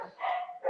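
Dogs barking in the background of a voice call, one short bark-like cry followed by another, faint and a little muffled.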